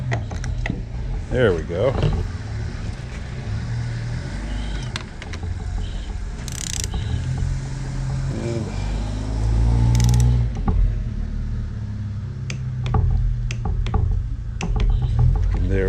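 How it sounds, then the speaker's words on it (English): Ratcheting wrench turning in rapid clicking bursts while a winch is installed, fairly close, mixed with other mechanical knocks and someone speaking briefly. "let's see where we can get our wrench in there."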